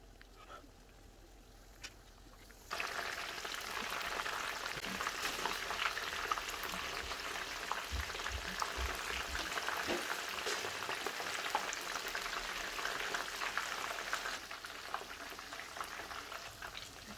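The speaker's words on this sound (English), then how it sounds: "Now we're gonna fry it." Chicken coated in crushed Doritos drops into hot oil and fries with a steady bubbling sizzle that starts abruptly and carries on evenly, close and moderately loud, with a few soft clunks underneath.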